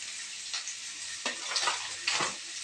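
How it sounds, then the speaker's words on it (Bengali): A spiced potato, onion and chili mixture for aloo paratha fries and sizzles in a pan with Kashmiri chili and meat masala, a steady hiss broken by several scraping stirs of a spatula, with no talk. "একটু মিট মশলা এটাকে দিয়ে ভালো করে নাড়াচাড়া করে ভেজে নেব।"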